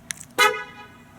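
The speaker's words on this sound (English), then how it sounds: "Doesn't have the old, really loud horn like the old Hondas had." A 2012 Honda Accord SE sounds its horn: a tiny tap first, then one short, bright honk that fades quickly, with no voices.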